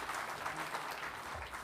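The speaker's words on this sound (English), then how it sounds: "Please, we can give her a round of applause." An audience at a risk management conference gives a round of applause as a speaker is invited to the stage, a brief, dense burst of clapping throughout.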